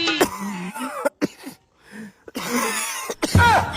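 An old man coughing, several rough hacking bursts close by with short gaps between them, part of a comic scene.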